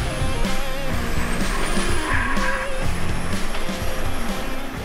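An upgraded Duramax diesel GMC Denali pickup truck runs hard down a drag strip, a loud continuous engine roar with wind rush, sustained for several seconds without a break.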